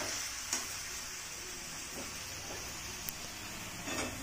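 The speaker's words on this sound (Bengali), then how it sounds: "আমি ওই কুসুম কুসুম গরম জল তরকারিতে দিয়ে দেব" Lukewarm water poured into mushroom curry frying in oil in a wok, giving a continuous bright sizzling hiss with occasional sharp pops and light scraping, no voices.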